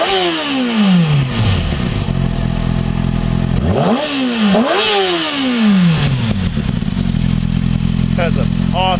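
A 2007 Kawasaki Ninja ZX-6R sports bike revving hard, several sharp, loud blips rising and falling in quick succession with a busy mechanical clatter underneath, close to the microphone.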